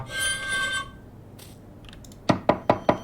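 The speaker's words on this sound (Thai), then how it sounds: "เคาะประตูหน่อยดีกว่า" Four sharp knocks on a door in the video game Midnight Postman, evenly spaced and close, following a brief ringing tone and a quiet stretch.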